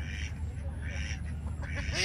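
Domestic ducks quack in an outdoor yard, several overlapping nasal calls close by over steady background hum, with a voice talking briefly at the same time.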